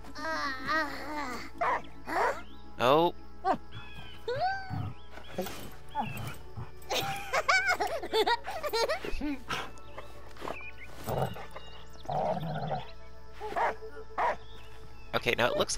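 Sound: dog barking and whimpering in video game Last Day of June

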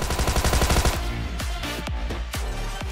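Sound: gunfire nearby in video game PUBG Mobile

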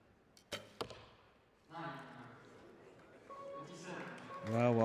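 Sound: arrow striking target at an archery tournament

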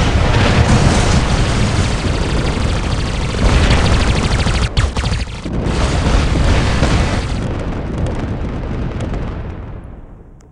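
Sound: gunfire from the player's robot in War Robots video game

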